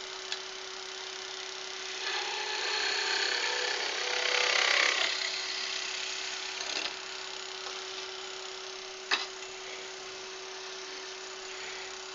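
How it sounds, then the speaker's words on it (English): Steady abrasive rubbing of sanding on wood, likely on a lathe, runs throughout, fairly quiet and even, with a steady hum underneath and a sharp knock near the end. "Oh, sanding."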